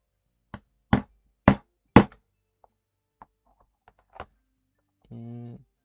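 A hammer strikes during leather working: four loud, sharp, evenly spaced blows come first, then a few scattered lighter taps, and a short droning tone closes the sequence.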